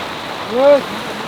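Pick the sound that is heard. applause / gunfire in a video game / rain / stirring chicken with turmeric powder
rain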